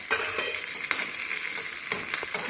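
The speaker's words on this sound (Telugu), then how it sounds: "చిట్టుపట్లు అన్నీ కదా ఇలా ఆడితే మనకి ఇంట్లో ఉన్న ఫ్లేవర్ బయటకు వస్తుంది అన్నమాట" Mustard seeds and curry leaves spluttering in hot oil for a home tempering, bright crackling pops and sharp snaps over a steady sizzle, close and lively with no voices.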